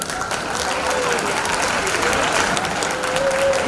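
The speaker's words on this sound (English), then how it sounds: "they need a big round of applause" Sustained applause from an audience at a special school's silver jubilee, a continuous wash of clapping at a steady, fairly loud level throughout.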